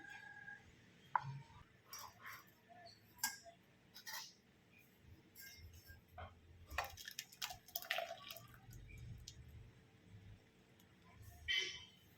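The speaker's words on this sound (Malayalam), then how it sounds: "ഇതൊന്ന് അരിച്ചെടുക്കാം." Watermelon juice being strained drips and trickles quietly and irregularly, with scattered small splashes and soft wet squishes over a faint background.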